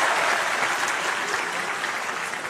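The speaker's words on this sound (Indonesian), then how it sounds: "Ya, kasih tepuk tangan dulu buat Antonius." An audience at a town-hall style political Q&A event claps in a dense, even burst of applause, loud and close, lasting the whole short stretch with no talk over it.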